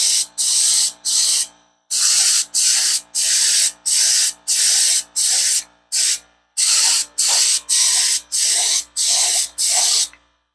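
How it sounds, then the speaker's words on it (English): Paint gun spraying primer onto terracotta in repeated short hissing bursts, each about half a second, separated by brief gaps, loud and close with no voices. "I have a lot of paint spraying back in my face."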